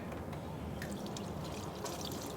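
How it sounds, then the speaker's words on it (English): Running kitchen tap water splashes over fingers during a rinse while making a salmon quiche with crème fraîche; it is a faint, steady hiss of flowing water with light droplet spatter, with no voices. "Just gonna rinse my fingers real quick."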